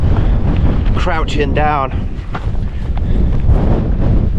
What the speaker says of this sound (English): It's too windy to stand up.